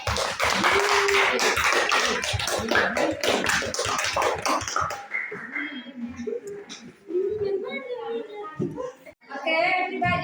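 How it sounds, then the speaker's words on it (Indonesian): Classmates clap together in a classroom for a friend, a dense burst of overlapping hand claps for about five seconds, then children's voices and chatter take over. "everybody, give applause to help your friend"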